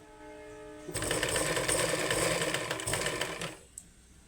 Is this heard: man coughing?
no